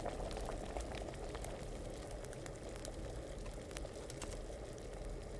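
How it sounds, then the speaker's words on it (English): Steady, continuous boiling of a brewing pot in Kingdom Come Deliverance, a dense bubbling simmer with scattered sharper pops and crackles over a constant low rumble, close and even in loudness throughout, with no talking. "I gotta wait for the boiling bubbles to stop."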